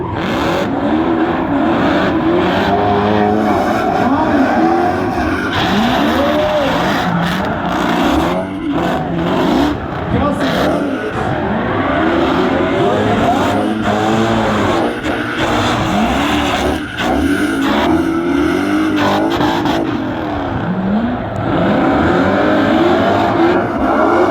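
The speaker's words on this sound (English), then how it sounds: "Trent Beecham, the Clonex LS powered Ford Mustang" An LS-powered Ford Mustang drifts at a SEMA parade drift event, its V8 revving hard and tires screeching in long, loud bursts, with other engine noise and crowd sound around it throughout.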